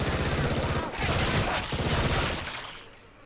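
Rapid pistol gunfire with incendiary rounds in the game Left 4 Dead 2, a loud dense burst of shots lasting a few seconds before trailing off.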